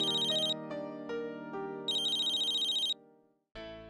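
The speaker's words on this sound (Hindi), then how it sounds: "पूर्वी का फोन इतनी रात को?" A telephone ringtone plays at night, a bright electronic melody with repeated tonal phrases, loud and close, alone without speech before a brief cut.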